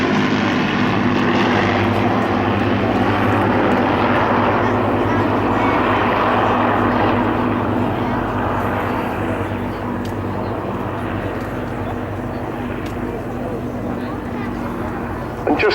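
A Battle of Britain Memorial Flight propeller aircraft drones past, a loud sustained engine roar that rises and slowly fades.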